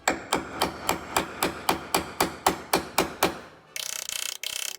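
A hammer strikes a chisel through spot welds on a rusty vehicle floor pan, about twelve evenly spaced, sharp metallic blows ringing close, followed by two bursts of rapid buzzing from a power tool.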